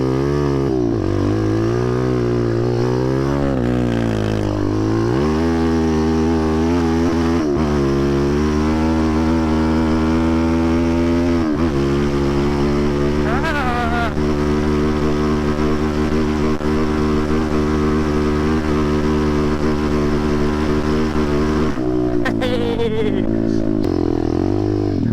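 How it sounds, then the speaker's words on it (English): Zongshen 190 motorcycle engine revving hard and holding at high rpm during a front-brake burnout attempt, a loud steady drone with rises and falls in pitch, close up throughout. "I want to put my front brake on and do a burnout"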